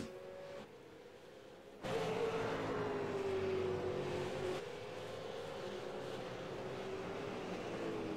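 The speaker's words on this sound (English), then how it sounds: "Listen to the engine. Not making a nice sound there." A V8 race car engine runs roughly after a big hit during a Euro V8 SuperCar race at Tsukuba, a faint, wavering drone that jumps louder partway through and holds with an uneven pitch.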